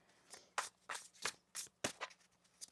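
Tarot cards riffled and shuffled by hand in a quiet room, about eight quick crisp bursts in an uneven rhythm, close and soft.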